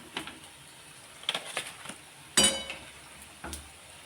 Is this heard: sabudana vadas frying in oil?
yes